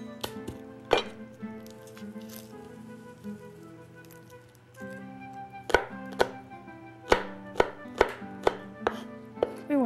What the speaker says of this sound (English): We want to chop the garlic real fine.